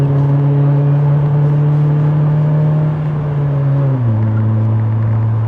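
BMW M3 E30 Sport Evolution cruising in fifth gear around 100, its engine a loud, steady droning hum from inside the cabin that dips slightly in pitch near the end, with no talking.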